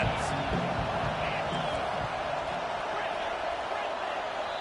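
A football stadium crowd roars steadily for the defense on a big third down, a dense, sustained wall of cheering heard from a distance, with a play-by-play voice speaking over it.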